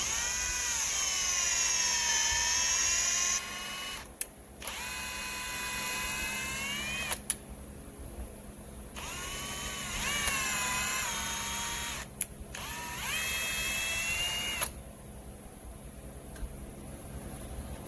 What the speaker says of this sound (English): Yeah, we're gonna power tap it with the tap.